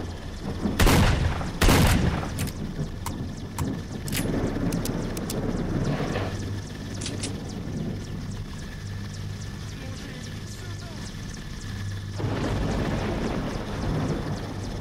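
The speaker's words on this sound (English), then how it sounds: "Fucking helicopter." Gunfire and booming blasts during a helicopter attack in the shooter game S.T.A.L.K.E.R.: Lost Alpha, with several sharp loud bursts early on, then a sustained rumbling engine drone and scattered cracks throughout.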